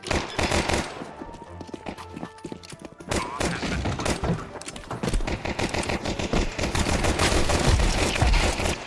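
Dense rapid gunfire from a round of Counter-Strike 2, with continuous automatic bursts and sharp impacts that build louder toward the end over the game's background noise.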